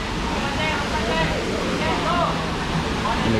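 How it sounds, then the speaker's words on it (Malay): A small waterfall at a riverside campsite at Jeram Tinggi, Hulu Langat, rushing in a constant broadband wash of flowing water, with faint voices in the background. "Ini kata mini waterfall dia."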